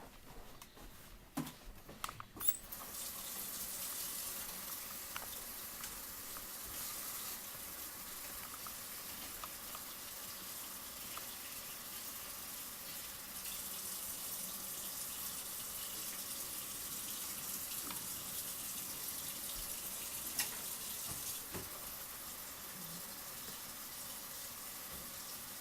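Kitchen tap running to wash oyster mushrooms, a steady, faint hiss of flowing water lasting the full stretch, with brief clatter at the start and no talking.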